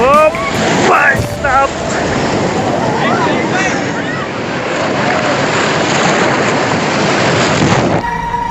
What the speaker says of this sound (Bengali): আরো বড় বড় ঢেউ আসছে কিন্তু